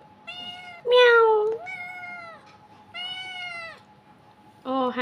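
Domestic cat meowing five times in close succession, the second call loudest and longest, the others softer drawn-out mews with short pauses between them.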